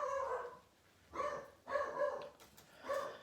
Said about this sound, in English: Dogs are on cue again.